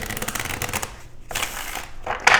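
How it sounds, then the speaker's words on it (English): Tarot cards shuffled by hand in quick riffling bursts, close and crisp, with a short pause midway and a sharper flick at the end. "Let's go ahead and get a shuffle in here for you"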